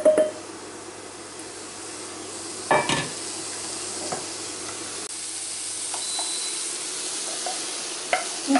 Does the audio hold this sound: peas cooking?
yes